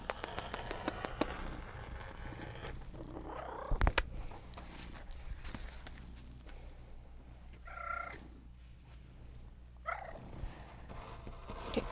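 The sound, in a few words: cat purring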